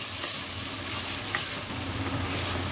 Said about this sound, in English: we're going to add in about 2 crushed garlic cloves and 1 teaspoon of ginger paste. We'll just want to mix those through as well.